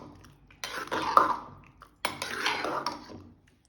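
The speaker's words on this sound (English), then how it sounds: "Add required salt and add 2 pinch of hing and 1 cup of curd. Mix all the ingredients." Curd rice is mixed with salt, a pinch of hing and a cup of curd, making two short bursts of spoon-on-bowl clinking and wet scraping close by.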